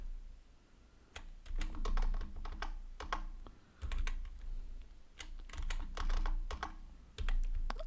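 Bursts of close computer keyboard typing while entering a command during a Hack The Box exercise, with clicky keystrokes in short runs separated by brief pauses.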